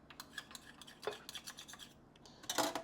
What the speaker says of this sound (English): take a spoon and maybe scrape some of that off on both sides